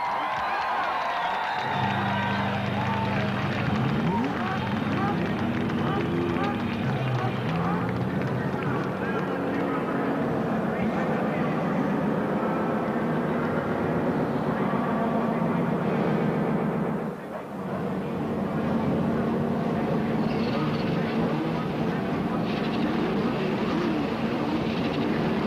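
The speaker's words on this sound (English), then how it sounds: "Gentlemen, start your engines!" Several CART Indy race car engines fire up and rev together at the 1992 Phoenix round, a loud, dense, continuous mechanical roar with harmonic drones, steady throughout with a brief dip near the end.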